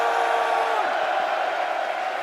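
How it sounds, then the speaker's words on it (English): A large crowd at a Rocket League Championship Series Paris Major watch party keeps up a steady, loud roar of cheering and shouting voices that blend into one continuous wash of noise. "Let's keep the cheering going then for Monkey Moon and Twisted Minds"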